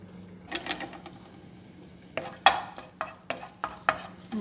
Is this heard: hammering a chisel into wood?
no